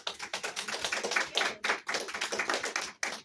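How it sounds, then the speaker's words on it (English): A small seminar audience claps for a participant after a voice demonstration, a brisk patter of individual hands, close and fairly loud, with brief gaps where the clapping dips before picking up again. "Have a round of applause for that."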